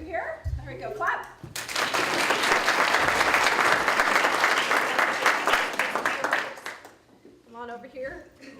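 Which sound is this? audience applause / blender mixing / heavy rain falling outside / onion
audience applause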